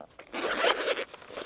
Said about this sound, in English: Single zipper, you have a zipper pull.